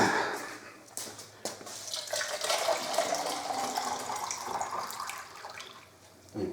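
Hot water running from a tap into a container holding leftover black cherry wine concentrate, a steady close splashing and gurgling fill that lasts several seconds before briefly dropping off.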